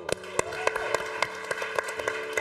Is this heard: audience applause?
yes